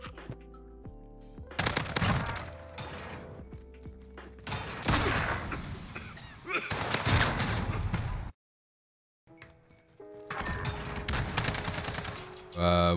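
Bursts of automatic gunfire in Call of Duty Modern Warfare search and destroy, loud rapid fusillades in several rounds separated by brief pauses and one full drop to silence, with game sounds and voices mixed in.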